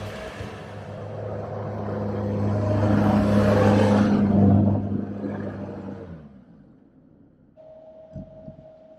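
A Sherp all-terrain vehicle drives around a driveway near frozen Lake Winnebago. Its engine drones in a low rumble that swells and fades, then settles to a steady idle hum.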